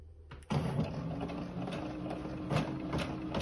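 A Brother ES5 sewing and embroidery machine starts stitching out a design, whirring in a fast, steady mechanical rhythm of needle strokes, close and continuous with no talk.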